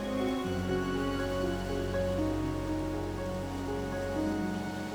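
Steady rain falls across a mountain landscape as a constant dense hiss of drops, even and unbroken throughout, with no voices.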